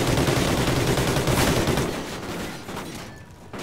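Sustained automatic gunfire from Call of Duty: Ghosts hammers continuously at close range, loud and dense, fading slightly toward the end without any talk.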